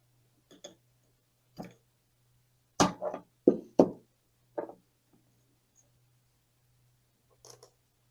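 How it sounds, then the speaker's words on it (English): Cutters snip bonsai wire on a small dwarf jade (Portulacaria afra lilliput) during repotting, giving a handful of sharp, close clicks spaced irregularly in an otherwise quiet room. "Go ahead and cut some of this wire off."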